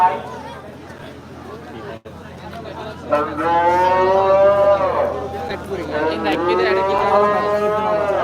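A cow lets out two long, loud moos nearby over a murmur of crowd chatter and voices at a busy cattle market.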